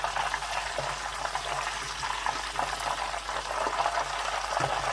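Chicken pieces deep frying in hot oil give a steady, dense bubbling sizzle that holds even and close throughout, with no voices over it.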